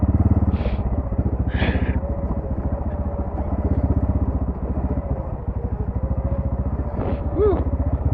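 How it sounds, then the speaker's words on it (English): An ATV engine brakes while descending a steep 45-degree off-road incline, a loud, close, steady throbbing rumble that runs throughout, with a few brief voice bursts over it. "But I'm letting it engine brake it."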